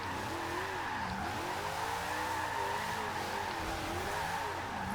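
A Dodge Dart drifting in Forza Horizon 2 holds a loud, steady engine drone with sweeping, wavering tire squeal that rises and falls continuously, close and unbroken, with no talk.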